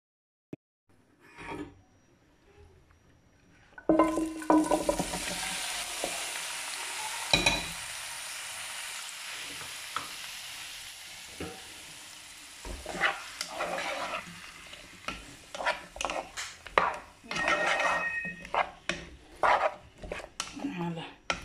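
Rabbit pieces simmer covered in a pan on low heat for a spaghetti and rabbit cream dish, giving a steady broadband sizzle with scattered clinks and taps of utensils, fairly close and continuous.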